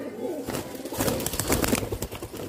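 Pigeons cooing up close in a steady, overlapping murmur, with soft rustling and shuffling underneath.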